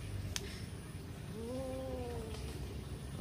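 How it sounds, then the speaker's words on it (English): Feral cats feed on a fish taken from a backyard pond, and one gives a short, rising and falling meow-like yowl midway. It sits over steady low outdoor background noise, with a brief tick near the start. "Another cat is going to join."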